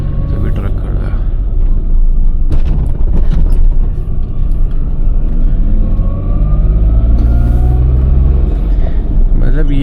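A 24-year-old Maruti 800 car's engine runs while driving on a road past speed breakers, a loud steady rumble and drone throughout, with someone talking over it.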